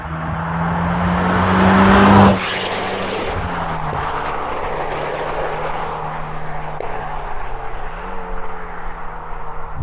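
Mitsubishi Lancer Evo X with a dual-clutch gearbox pulling hard from inside the cabin, a steady engine drone climbing in pitch, a sharp gear change around two seconds, then continued even acceleration with later shifts, muffled and constant.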